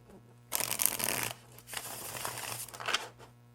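A Mind's Eye Tarot card deck being shuffled, giving two close bursts of papery riffling and crinkling, the first short and dense, the second longer and softer, with a steady low hum underneath.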